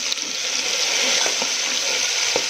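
A ground paste of coriander, black pepper, red chillies, ginger and cloves fries in hot oil for a rajma masala curry, hissing in a steady, loud sizzle with a few faint clicks of stirring.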